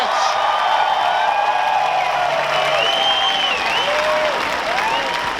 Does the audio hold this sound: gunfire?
no